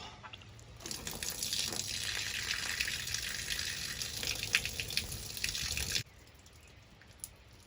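Water gushes loudly out of a lubrication tube on a Woodland Mills HM-126 sawmill, a steady splashing rush for about five seconds that cuts off abruptly, leaving a faint drip and quiet.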